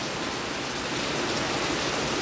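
Heavy rain pours down steadily in Kerala, a dense continuous hiss with no breaks, fairly loud and close, with no voices over it.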